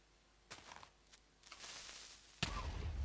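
A creeper blowing up in a Minecraft lucky block wars match: a few soft thumps and pops lead to one sudden loud blast that cuts in near the end and holds a dense, roaring burst through the close.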